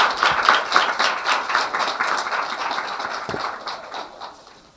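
An audience claps for children at a Christmas celebration in Model Colony. The crowd's clapping is lively and sharp with distinct hand strikes, then gradually thins and fades toward the end.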